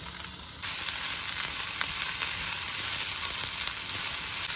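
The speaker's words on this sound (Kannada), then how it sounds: "ಸ್ವಲ್ಪ ಚೆನ್ನಾಗಿ ಫ್ರೈ ಮಾಡ್ಕೊಳ್ಳೋಣ" Mutton keema fries hard in a pan with a loud, continuous hissing sizzle that jumps up sharply after a brief quieter start and holds steady, with faint stirring scrapes.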